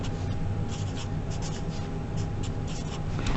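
Steady, close scratching of a pen or marker writing out a math sequence formula, continuous for a few seconds with no talk.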